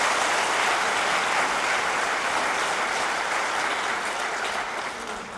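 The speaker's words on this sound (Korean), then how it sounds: "여러분들 다시 한번 축하의 박수 좀 부탁드리겠습니다" An audience in an official government staff gathering applauds honoured civil servants, a steady dense wash of clapping that holds evenly before fading slightly at the end.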